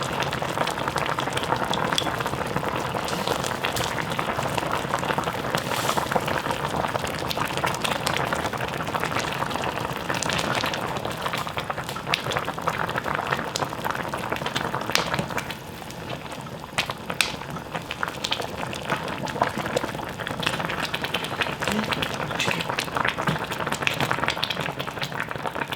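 Pork kimchi jjim simmers in a pot over low heat, giving a steady, dense bubbling and popping that runs without a break for the whole stretch, close and fairly quiet with no voices.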